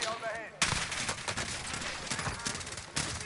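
Dense bursts of automatic gunfire and rapid shots crack through a Call of Duty Warzone firefight, loud and continuous with sharp onsets, while players talk over the action.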